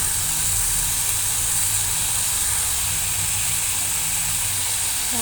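Chopped potatoes fry in hot oil under a lid, giving off a steady, even sizzle and hiss that holds at one level throughout with no pauses.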